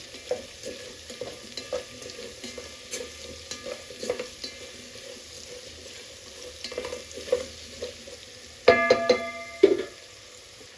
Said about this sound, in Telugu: మళ్ళీ ఒకసారి మిక్స్ చేసుకొని వాటర్ యాడ్ చేసుకుందాం